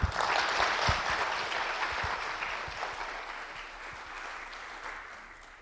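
An audience at a United Nations University lecture applauds a professor, a broad wash of many hands clapping that starts strong and gradually fades, heard from some distance.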